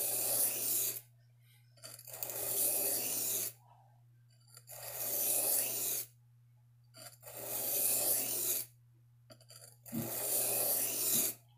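Carbon steel knife bevel being sharpened on a stone, rasping strokes in five long bursts of about two seconds each with short pauses between, close and steady over a low constant hum.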